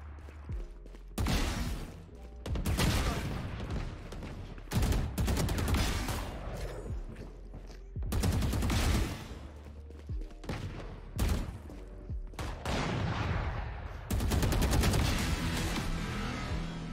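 Rapid rifle fire from the Vandal in a Valorant deathmatch, coming as loud bursts and sprays separated by short pauses over several seconds, with no talking.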